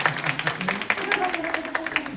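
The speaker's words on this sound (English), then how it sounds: "Let's give her a round of applause." Clapping from an audience at a corporate evening meeting, steady and moderately loud through the short stretch, with crowd murmur mixed in.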